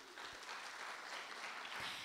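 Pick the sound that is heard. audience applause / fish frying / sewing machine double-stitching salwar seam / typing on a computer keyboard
audience applause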